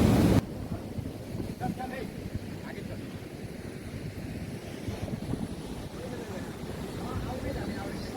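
Sea waves and wind at the Bekal Fort beach in Kasaragod, Kerala: a steady surf wash with buffeting wind noise on the microphone and a louder thump at the start.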